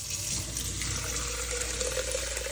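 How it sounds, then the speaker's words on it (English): Water running steadily from a tap while a bottle is filled, a constant close-up rushing gush with no one speaking. "As you saw, I recently filled up water."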